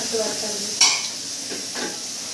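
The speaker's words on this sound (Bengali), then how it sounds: "এখানে মাংস মাংস আর ডাল হচ্ছে কলমি ভাজা" Water spinach (kalmi) frying in a pan with a spatula stirring it, giving a soft, steady sizzle and one sharp scrape of metal against the pan partway through, followed by fainter stirring strokes.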